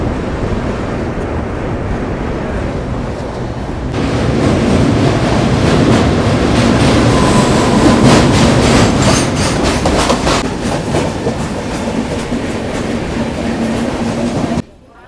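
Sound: Jan Shatabdi express train running over Ganga river bridge

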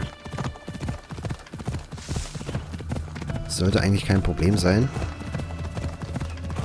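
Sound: horse galloping hooves in Assassin's Creed Odyssey video game

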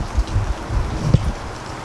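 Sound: rain falling

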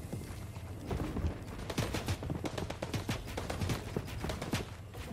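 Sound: gunfire from a teammate in the video game Fortnite

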